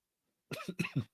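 A close, sharp burst of coughing, three or four quick hacks in a row, after a moment of silence.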